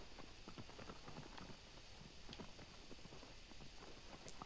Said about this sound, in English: I just get more and more annoyed with Aggro for being a garbage horse